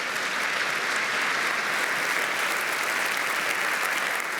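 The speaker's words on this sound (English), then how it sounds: "That clapping is for you guys" Dense, sustained applause from a church audience at a music festival concert, steady and loud throughout with no speech over it.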